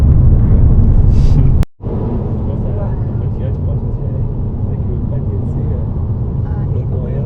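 Car on the road in Australia, a loud steady low engine and road rumble filling the cabin, briefly cut off once, with people talking over it.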